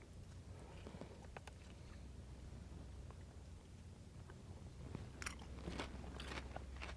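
Someone bites and chews freshly cooked yellowtail snapper, making soft, quiet crunching and mouth sounds close to the microphone over a faint steady background hum.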